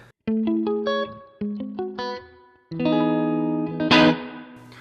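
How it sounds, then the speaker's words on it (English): Electric guitar through a Line 6 POD Express amp modeler plays clean picked notes and then a strummed chord, each ringing out with a light, splashy, metallic spring reverb tail. "Let's add just a little bit of spring reverb by turning this knob."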